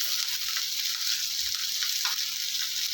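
Onions and dried red chillies sauté in oil for a mixed vegetable chutney, giving a soft, even hiss of frying that stays steady and fairly quiet throughout, with no voices.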